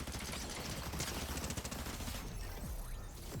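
Rapid automatic SMG fire in a first-person shooter video game, a dense continuous burst of shots at steady volume that thins slightly near the end.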